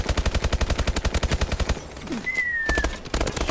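Rapid automatic gunfire in a gun-game video game, loud and close, a steady rattling burst for nearly two seconds, a brief pause with a whining tone, then another short burst.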